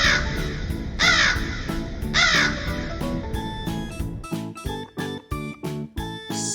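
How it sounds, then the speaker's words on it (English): A crow calls with a run of loud, harsh caws, first in drawn-out groups and then in quicker separate bursts, close and clear, with no voices. "crow."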